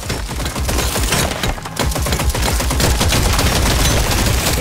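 Rapid, continuous gunfire from the Deep Rock Galactic: Survivor video game crackles loud and dense for several seconds, a nonstop barrage of overlapping shots.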